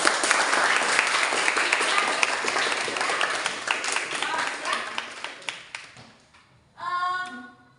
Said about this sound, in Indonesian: Give a applause